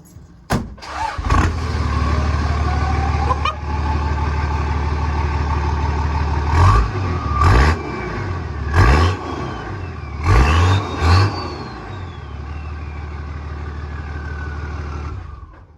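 A 1997 Nissan GQ Patrol with a TD42 diesel engine starts up and idles with a rumbling exhaust, several short throttle blips rising and falling midway, then settling back to a steady loud idle, no talk.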